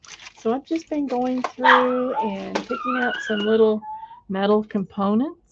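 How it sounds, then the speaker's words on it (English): Several household dogs yip and howl in the background, their drawn-out cries mixed under steady talk from a woman. "I'm sorry the dogs will probably be barking for just a few seconds."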